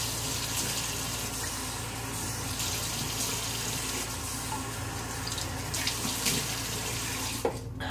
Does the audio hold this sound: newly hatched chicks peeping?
no